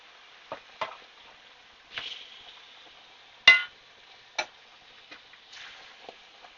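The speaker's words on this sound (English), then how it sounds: "I'm just going to let this sear on the other side" Food searing in a pan, with scattered sharp ticks, scrapes and brief sizzling bursts at irregular intervals over a quiet background, close and with no talking.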